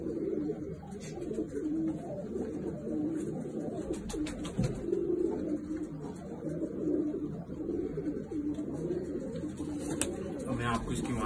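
Flying pigeons of a good breed coo steadily in a loft in Doiwala near Dehradun, a low, continuous burbling chorus close by, with a voice speaking faintly in the background.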